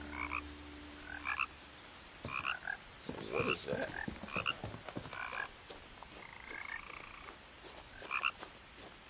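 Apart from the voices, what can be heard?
frogs croaking in video game What Remains of Edith Finch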